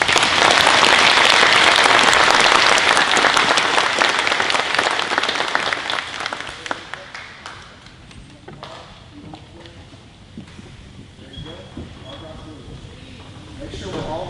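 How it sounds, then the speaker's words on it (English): Loud audience applause at a middle school spring band concert for sixth graders, sustained for several seconds then tapering to scattered clapping and room noise. "So give them a good round of applause."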